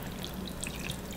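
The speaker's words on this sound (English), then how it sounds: "Now I'm going to add water." Water is poured into a pot of Armenian stuffed cabbage dolma weighted down by an upside-down plate, a soft, steady trickle and splash heard close up and fairly quiet, with no talking.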